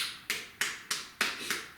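Six crisp finger snaps at an even, quick pace, offered as applause, close and fairly quiet with nothing else around them.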